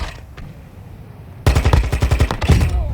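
A rapid automatic-weapon burst of about a dozen close, loud shots rings out in Call of Duty Warzone 2.0. Quieter game ambience comes before the burst, and a few more shots follow it.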